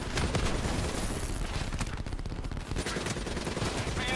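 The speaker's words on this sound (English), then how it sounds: "Who the fuck is shooting me?" Gunfire in the Call of Duty: Black Ops 3 video game, dense rapid automatic bursts rattling continuously and loud, with the shooting packed close together throughout.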